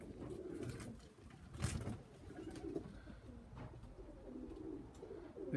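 A kit of racing pigeons coos in soft, repeated throaty calls close by, with faint rustling and a brief flutter, heard alone at low level and without talk.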